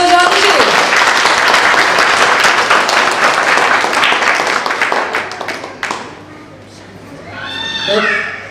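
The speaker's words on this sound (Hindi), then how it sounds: "तालियां, तो प्लीज तालियां बजा दीजिए।" Audience clapping loudly at a gathering, dense sustained applause that tapers off after about five seconds, followed by a voice speaking.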